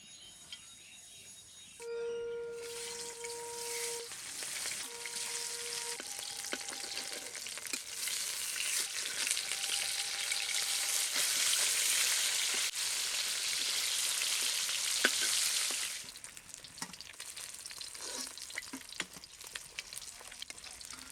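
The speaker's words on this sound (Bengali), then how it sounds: "মাছগুলো ভেজে নিয়েছি" Fish sizzles loudly in hot oil in a wok, a dense crackling hiss that swells, holds, then quiets down with scattered pops.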